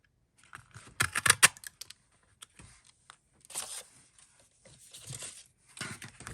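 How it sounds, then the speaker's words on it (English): Paper being cut with a double oval craft punch during cardmaking: a sharp cluster of crisp clicks and crunches near the start, followed by softer rustling and handling of paper, close and clear, no talking. "And I am getting out my punch here. We've got our double oval punch. I'm going to cut this out."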